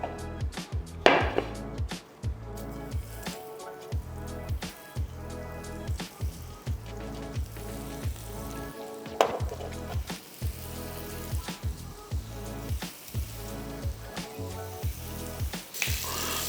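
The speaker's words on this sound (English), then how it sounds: "I'm going to be searing off my paneer here" Paneer sears in a hot pan while a gravy is under way, giving a steady crackling sizzle with repeated taps and scrapes from turning the pieces and a few louder bursts of spitting oil, all without speech.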